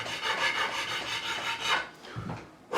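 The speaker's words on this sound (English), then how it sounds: "It's a diamond coated file." Diamond-coated file of about 150 to 300 grit rubbed along guitar frets during a refret of an Ernie Ball Music Man Silhouette, giving a continuous gritty rasping in repeated strokes, close and moderately loud, then a brief pause before a final stroke.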